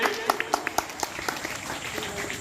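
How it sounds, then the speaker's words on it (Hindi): Schoolchildren clap for the winner of a class 7 monitor election at a school vote count, a sparse, uneven run of individual claps over a busy room background with faint voices. "जोरदार तालियां इनके लिए।"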